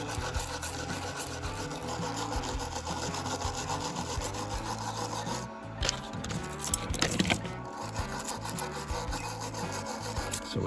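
The contact on a 1930 Ford Model A distributor plate gets a steady, close brushing, a continuous scratchy scrubbing that runs throughout with a few brief breaks and clicks midway.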